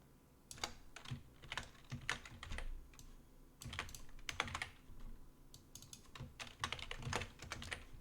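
Rapid clicking of a computer keyboard as Arduino code is typed, bursts of keystrokes close by with short pauses between, no voices.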